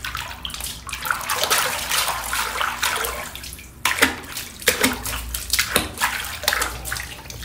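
Water pours and sloshes loudly and close into a watermelon drink pool set out for chickens, a continuous rushing splash broken by short surges and gurgles.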